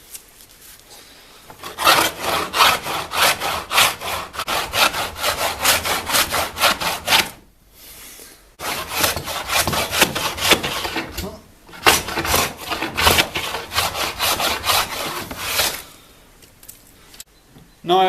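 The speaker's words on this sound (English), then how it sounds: "Now I've finished hand planing" An old hand plane works across wood close by in long runs of rapid rasping strokes, with two brief pauses before the scraping resumes, and nobody speaks.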